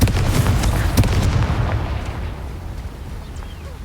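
A Confringo blasting spell explodes in the Hogwarts Legacy video game: one loud, close boom opens with a sharp crack, then a rumbling roar slowly fades away with no voices.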